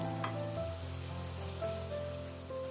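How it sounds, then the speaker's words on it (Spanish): Garlic and chopped green pepper sauté in a pan, a continuous crackling sizzle under a background of steady tones with occasional higher chimes, close and even throughout. "Sofreímos todo durante unos minutos, añadiendo una pizca de sal para que sude un poquito."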